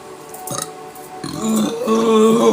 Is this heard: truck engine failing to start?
no